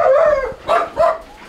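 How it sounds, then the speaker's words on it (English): German Shepherd dogs in kennels bark and yelp in excited, overlapping bursts, loud and close, with three distinct barking surges across a short moment. "when I enter kennels and they start barking"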